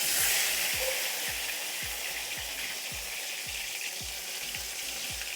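Chela fish paturi wrapped in pumpkin leaves fries in hot oil in Bengali village style, a steady loud sizzle broken by a regular low popping pulse about twice a second, with no talk.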